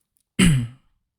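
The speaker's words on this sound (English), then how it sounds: "So you might hear me coughing quite a lot soon." One short, rough cough or throat clear from someone with a chest infection, close and isolated, with silence before and after.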